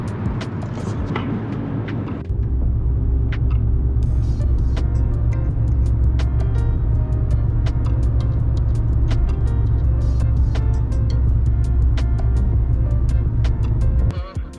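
Car driving along, a steady low rumble of engine and road noise inside the cabin, continuous and fairly loud with occasional small knocks.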